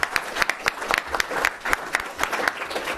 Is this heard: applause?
yes